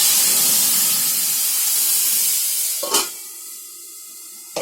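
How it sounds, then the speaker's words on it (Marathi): Masala poured into hot oil for a tempering sizzles loudly in a steady, hissing rush up close, then cuts off sharply as a lid clanks down, leaving a fading hiss. "फोडणी देताना नाही ना गॅस बारीक करायचा आणि मग त्याच्यात मसाला ओतायचा."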